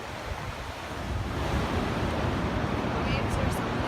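Ocean surf at South Beach rolls in as a steady broadband wash, close and moderately loud, with wind buffeting the microphone throughout.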